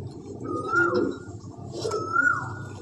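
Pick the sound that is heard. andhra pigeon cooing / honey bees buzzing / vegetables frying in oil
andhra pigeon cooing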